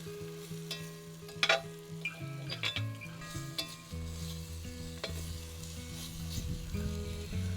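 Beef sears and sizzles in a pan for old-fashioned beef stew, a steady close frying hiss with scraping stirs and occasional utensil clinks against the pan.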